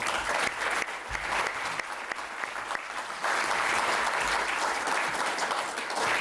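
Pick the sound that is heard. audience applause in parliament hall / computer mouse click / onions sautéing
audience applause in parliament hall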